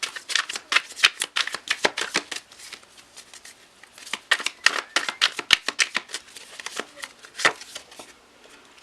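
A tarot deck is shuffled by hand, with bursts of rapid, crisp card riffles and slides that come in uneven clusters, close and moderately loud with no talking.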